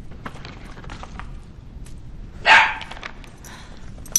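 A single dog barks once, fairly loud against a steady low background noise, with a faint second yelp at the end.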